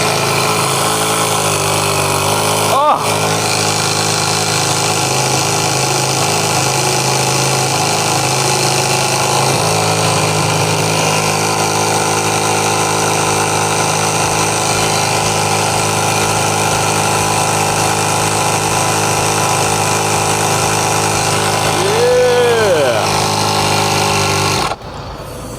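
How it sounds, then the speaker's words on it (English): An air compressor rated at 300 PSI runs loud and steady for the whole stretch, a dense mechanical drone with a brief revving rise near the end, then a sudden drop; a single short exclamation is heard. "Compressor, air compressor, 300 PSI."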